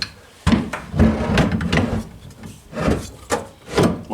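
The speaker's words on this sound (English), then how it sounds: "Slide your rack over the top of the bushings." A rack slides over plastic bushings during a hanger installation, producing close, loud scraping and rubbing strokes with a few knocks, like wood or plastic dragged across a surface.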